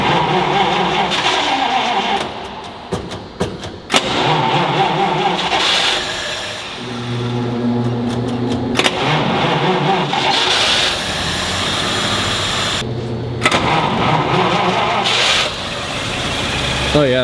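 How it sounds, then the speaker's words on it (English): A 1935 LaSalle car engine with its air box fitted runs loudly close by, idling and revving unevenly while people talk over it. "Engine's way quieter with air box on."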